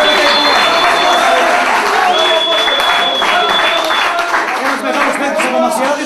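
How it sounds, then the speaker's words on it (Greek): A crowd applauds a champion football player while the title-winning team brings the cup home, loud and continuous clapping mixed with cheering under a sustained whistle-like tone and some talk. "Χειροκρότημα για τον Αποστόλη μας."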